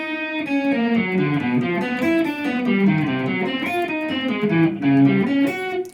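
Guitar plays the spider walk finger exercise, a steady run of separate picked notes stepping along the strings, clear and alone.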